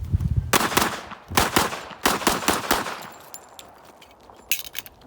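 .45 ACP pistols such as a Ruger SR1911 and HK45 fired at an outdoor range: several loud, sharp gunshots in quick bursts with short pauses, each followed by a brief echoing tail.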